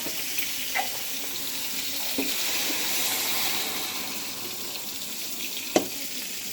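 Food fries in a pan with a steady, fairly loud hissing sizzle, broken now and then by soft clicks of stirring, with no voices.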